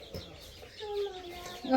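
Chickens cluck softly in short bursts close by, with light background noise and a brief louder cluck at the end.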